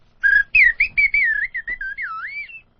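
A slide whistle imitates R2-D2 from Star Wars with a quick string of warbling, swooping chirps and bleeps that ends in a falling glide, heard alone and close.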